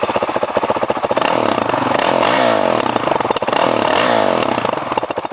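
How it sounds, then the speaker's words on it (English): A 2020 Honda CRF450L dual-sport motorcycle with a side-exit exhaust, recorded up close as the single-cylinder engine idles with a rapid thumping pulse, then is blipped twice into loud revving bursts that fall back to idle. "up top we have the side exit exhaust, which we'll go ahead and take a listen to"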